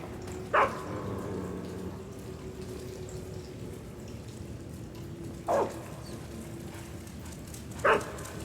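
A dog in Metal Gear Solid 3 barks three times, with sharp, separate barks spread out over a low, steady watery background. No one speaks.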